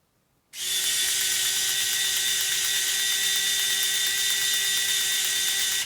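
A TONE CHD221S USB-charged electric screwdriver runs forward with no load, a steady close whirring motor hum with a constant whine that starts abruptly and holds for several seconds.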